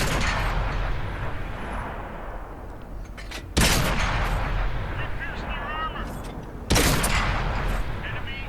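Tank cannon shots in the console game World of Tanks, firing on a Churchill III: two loud, sharp booming blasts about three seconds apart over constant battle rumble and engine noise.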